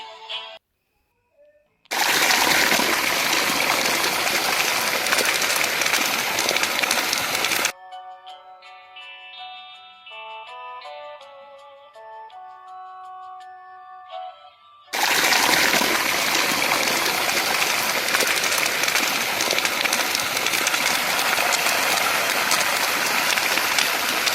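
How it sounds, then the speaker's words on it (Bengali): Water splashing steadily over newly planted lotus plants in a home garden, a loud, dense rain-like hiss in two long stretches separated by a quieter musical interlude. "লাগানোর কাজ শেষ এবার তাহলে জল দিয়ে দিচ্ছি"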